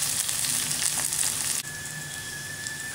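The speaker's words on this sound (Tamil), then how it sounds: "பச்சை மிளகாய் போட்டுக்கலாம். இது கொஞ்சம் வதங்கின பின்னாடி நம்ம வெங்காயம் போட்டுக்கலாம்." Green chillies fry in hot oil in a pan, giving a bright, steady sizzling hiss up close that drops abruptly to a quieter, even crackle partway through.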